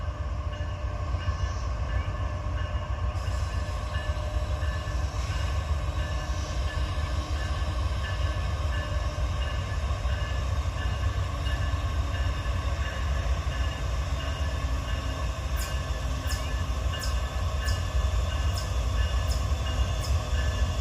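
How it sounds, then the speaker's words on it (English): A freight train slows under dynamic braking, its rail noise and engine rumble loud and steady throughout with no brake squeal, and a few faint high ticks near the end. "he's just using dynamic now to slow itself down."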